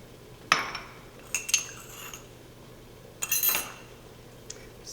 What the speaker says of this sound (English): take the dish, twirl it, and now you've got dishes coated with butter and sugar